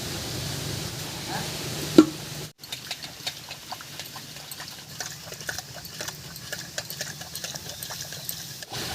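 Cooked mashkalai (black gram) dal being mashed by hand in a pot for an old rural vegetable dal recipe: a quick series of light, uneven clacks and taps over a soft, constant background hiss.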